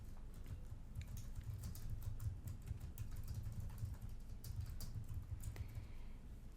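Keys clatter on a computer keyboard in quick, irregular bursts over a steady low hum, with no one talking.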